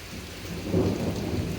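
Thunderstorm with lightning over a pepper garden, heavy rain hissing steadily while a deep rumble of thunder swells midway and lingers, fairly loud and close, with no voices.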